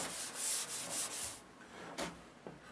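Sandpaper rubbed by hand across a UV-cured resin gloss coat on a surfboard, several steady close strokes in a row followed by a couple of short scuffs, with no one talking.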